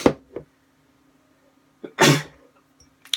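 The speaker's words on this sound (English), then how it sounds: "I need to sneeze really bad, excuse me." One person sneezes close to the microphone, a short sharp burst preceded by a quick inhale, with faint breathy sounds before and after in a quiet indoor room.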